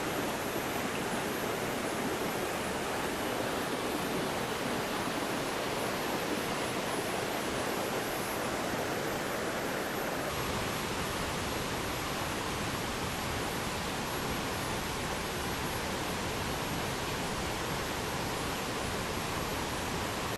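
A strong waterfall on the Wang River in Thailand after a storm roars as a dense, unbroken wash of broadband noise, loud and close, with no voices.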